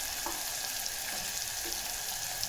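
Chopped tomatoes fry in hot oil for a Marathi methi and shepu gargatta dish, making a steady, even sizzle that continues through the whole clip with no talk.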